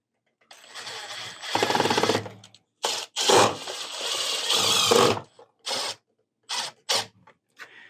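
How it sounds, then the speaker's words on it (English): Panhead screws are driven to fasten a skeleton's skull to its backbone. A close, loud motorized whir runs in several bursts of varied length, separated by short silences. "we're just going to use our panhead screws to attach it here along the actual backbone"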